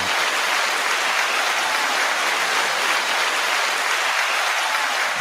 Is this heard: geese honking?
no